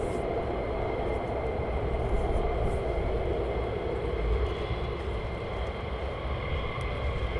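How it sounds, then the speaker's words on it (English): A jet aircraft on approach to land at RAF Lakenheath, reportedly with a slight issue, gives a steady, loud, broadband engine roar that holds at an even level throughout with no talk. "aircraft coming in with a slight issue"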